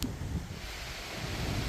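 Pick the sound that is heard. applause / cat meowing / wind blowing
wind blowing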